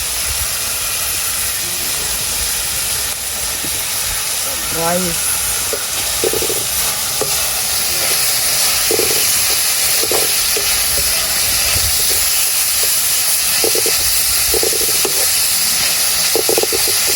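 Carrots and other vegetables sautéing in a pan, a steady sizzling hiss throughout with occasional stirring clinks and scrapes, close and continuous without talk.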